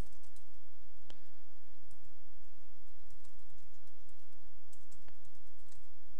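Keys on a computer keyboard are typed in quick, light, irregular bursts that sound close but quiet, with faint clicks over a low background hum.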